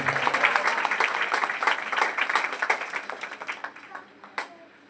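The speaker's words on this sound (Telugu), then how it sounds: "గట్టిగా చప్పట్లు కొట్టండి ఇప్పుడు." A church congregation claps loudly during a sermon, a dense, steady run of many hands beating together for several seconds before thinning out toward the end, with a voice faintly underneath.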